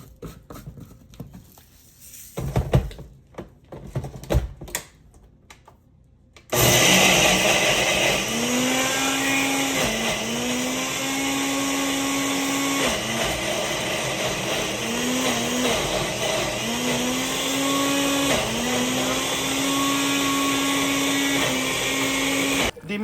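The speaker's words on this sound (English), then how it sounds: "So I'm going to add everything together and blend." After some handling and clatter, a blender roars to life, whirring loudly and continuously as it purees atarodo peppers and tomatoes, its pitch rising and dipping slightly as the load shifts.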